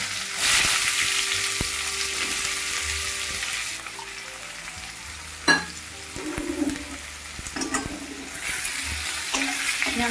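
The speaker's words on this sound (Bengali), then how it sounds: "এবার আমি কুচি করে রাখা পেঁয়াজগুলো দিয়ে দিচ্ছি।" Chopped onions hitting hot oil already seasoned with bay leaf and a dried red chilli, a bright sizzle that settles into steady frying with occasional stirring clinks and scrapes, close up and with no voices.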